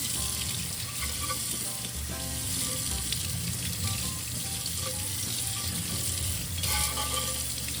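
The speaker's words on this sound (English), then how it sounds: "I'm just gonna rinse" A microwave turntable plate rinsed under a running kitchen tap, a continuous close wash of water with splashes and small clatters throughout, no voices.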